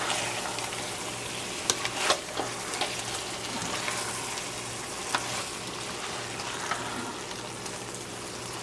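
Liver and ginger sizzling and frying in a pan while being stirred, with a steady crackling sizzle and occasional louder scraping clicks of the utensil.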